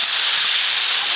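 Water hits a hot pan of frying bottle gourd greens with dried chilli and vegetables, giving a loud, continuous, close hiss of steam and sizzle.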